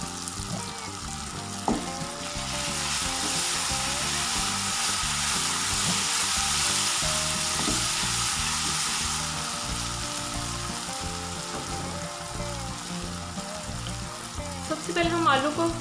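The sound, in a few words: chopped green chillies frying in oil for aloo baingan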